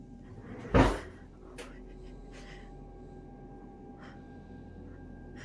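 A drawer or cupboard door thuds shut once, a short loud knock over a steady background hum, followed by faint rustles and small noises in a museum setting, played back from a recording.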